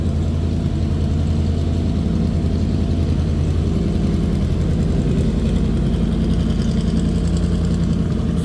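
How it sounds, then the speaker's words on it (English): A 1966 Shelby Cobra replica idles with a steady, deep exhaust burble, constant and close throughout with no voices over it. "So nice sounding exhaust"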